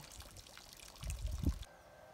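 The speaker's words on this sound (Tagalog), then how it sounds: "napuno na, dun na siya pupunta sa overflow." Water spilling from the overflow of a fuel-free ram pump on a farm, running off toward a fish pond: a steady faint trickle that swells into a louder pouring gush for about half a second, then cuts off.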